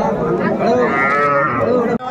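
Cattle low loudly and close at a busy Bangladeshi cattle market, the haat at Aftabganj, with long drawn moos from young bulls and heifer calves overlapping one another almost continuously and no talk above them.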